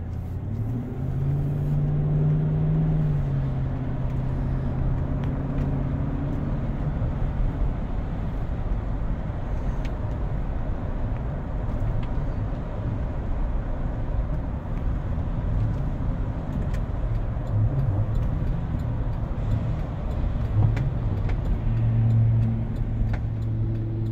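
Steady interior ride noise inside a 2008 Chevrolet Tahoe Hybrid SUV on the road, a loud, continuous low rumble of engine and tires that holds throughout, with no talking.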